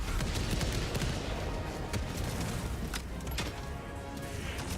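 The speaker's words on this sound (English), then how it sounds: "You blew up my mortar." Dense, continuous battle noise in Helldivers 2 around a mortar that gets blown up, with overlapping blasts and gunfire crackling loudly throughout and a few sharper bangs poking through.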